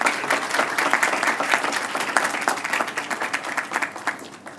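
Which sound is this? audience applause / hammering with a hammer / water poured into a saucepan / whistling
audience applause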